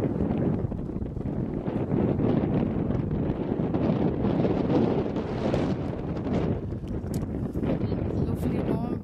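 A warm breeze blowing across a hilltop, buffeting the microphone with a steady, broadband rumble and rustle that stays loud and continuous throughout, with no voices.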